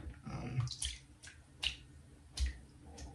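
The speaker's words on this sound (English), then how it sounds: "I'll add a little bit of water in here, not much." Water poured in small amounts into an Old Spice shaving mug, giving faint splashes and drips with a few brief clinks, quiet and close.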